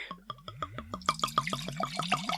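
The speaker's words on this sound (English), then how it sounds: "and now we pour." A drink is poured from a freshly corked-open bottle, glugging close up in a quick, steady train of about a dozen bubbly gulps that speed up as the pour settles.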